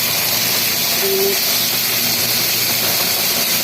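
Food sizzles and spatters in hot oil in a home kitchen as a simple budget dish fries, a steady bright hiss with small crackles running throughout.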